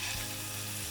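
Steaks sear in hot olive oil in a frying pan over medium-high heat, giving a steady, close, full sizzle that holds evenly from start to finish with no talking.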